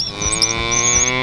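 A cow gives one short, steady moo, close and fairly loud, with no other sounds around it.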